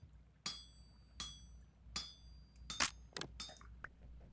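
A hammer strikes metal armor at a smithing anvil in the Vintage Story video game: five or six sharp, ringing metallic clanks at irregular intervals over a low hum, with no talking.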